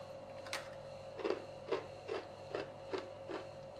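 Someone crunching small, tiny pieces of Nigerian chin chin, a fried dough snack, giving about six sharp, evenly spaced crunches, close but faint over a steady background hum.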